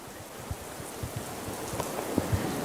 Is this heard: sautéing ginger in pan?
no